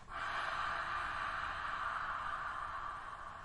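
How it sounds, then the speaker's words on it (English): Ocean-style ujjayi breathing during a yoga class, one long, close, whispery breath through the throat into cupped hands that fades slowly, with no talking. "Breathe into your hands one more time and make that whispering sound, the ocean sound."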